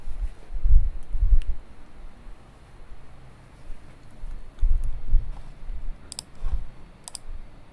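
A computer mouse clicks a few times, sharp near clicks scattered irregularly over quiet low background rumble.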